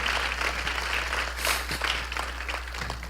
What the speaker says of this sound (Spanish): denle un buen aplauso al Señor por eso